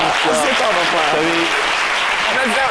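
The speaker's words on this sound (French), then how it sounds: "Je demande de nouveaux applaudissements pour vous." Loud, sustained applause from a television studio audience fills the whole moment, with a voice speaking over the clapping.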